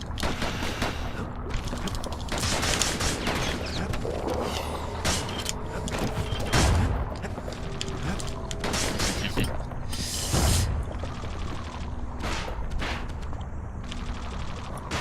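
Dual-barrel gun fire in the action game Bastion, dense bursts of shots and mechanical clanks layered over continuous game music and effects, with someone talking at times.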